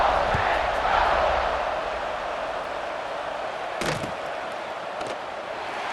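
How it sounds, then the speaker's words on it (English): Stadium crowd noise in the EA Sports College Football 26 video game, a broad steady roar and murmur after a touchdown, with a brief sharp thump partway through, continuous and moderately loud. "this crowd is buzzing after that last score"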